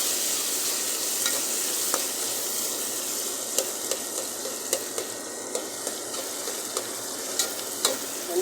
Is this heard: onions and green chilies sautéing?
yes